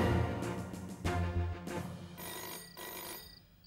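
A telephone bell rings in repeated bursts indoors, fairly loud and alone, with no talking over it.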